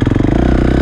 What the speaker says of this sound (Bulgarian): КТМ-че, 350 кубика, 4-тактово.